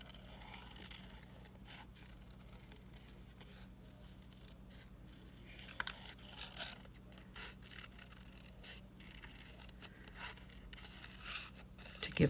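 Scissors cutting card paper around a shape for a Christmas card, quiet intermittent snips and rustles near the microphone over a low background hum.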